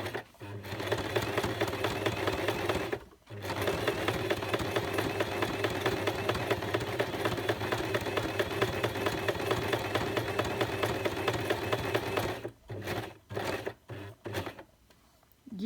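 Sewing machine zigzag stitching an appliqué ornament with a close, continuous mechanical whirr, one brief pause early on, then a few short stop-start bursts at the end.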